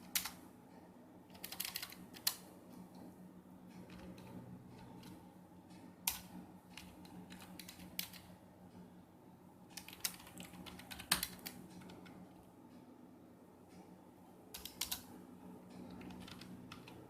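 A computer keyboard with keys pressed one at a time, including repeated Tab presses while editing a table. The clicks are crisp and close, coming in small clusters with pauses between them, and no one speaks.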